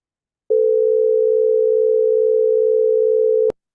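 A pure synthesized tone built from the fractional digits of pi, held steady for about three seconds on a single clean pitch, then cut off with a sharp click, with silence around it.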